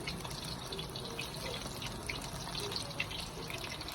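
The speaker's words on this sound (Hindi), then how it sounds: "ऑयल हमारा फुली गर्म है और हम डाल रहे हैं पकौड़े" Curry pakoras fry in fully heated oil, making a continuous dense crackling hiss with faint pops throughout, close and steady with no talking.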